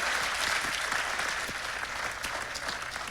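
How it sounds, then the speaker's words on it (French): An audience at a women's master class breaks into steady applause, a full wash of many hands clapping throughout, fairly distant and even. "Ça mérite aussi des applaudissements"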